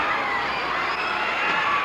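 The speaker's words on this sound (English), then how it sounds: "The crowd are going wild here." A wrestling arena crowd cheers and screams wildly during a match with a man hanging off scaffolding, a dense, loud roar that holds steady and swells slightly toward the end.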